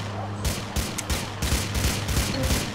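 Rapid bursts of gunfire from the GTA IV video game crackle in a steady rhythm over a low droning background, loud and close throughout.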